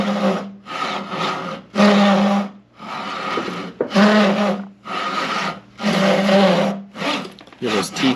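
A Japanese pull saw cuts through wood in steady back-and-forth strokes, each one a loud, close rasp. About seven strokes run in a regular rhythm with short gaps between them.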